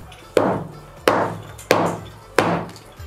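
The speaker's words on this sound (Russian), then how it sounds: "Придется разбивать ее молотком." Four heavy, evenly spaced hammer blows strike a rock-hard salt crust baked over a whole ostrich, each a sharp crack with a brief crumbling ring.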